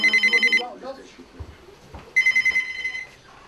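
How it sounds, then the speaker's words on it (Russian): A telephone rings for a train driver in two bursts of rapid electronic trills, close and loud, with someone speaking in the pause between the rings. "в любое время суток у машиниста может раздаться телефонный звонок"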